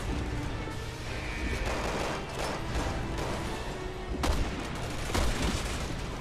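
Gunfire in the horror game Resident Evil 6 rings out in several irregular bursts and booms over a dense, rumbling background of game noise and mechanical clatter.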